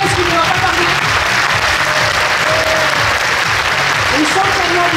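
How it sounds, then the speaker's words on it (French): A large crowd at a campaign rally for presidential candidate Valérie Pécresse breaks into loud, sustained applause that stays dense and steady throughout, with voices mixed into the roar. "je vous demande de faire un tonnerre d'applaudissements pour notre candidate Valérie Pécresse"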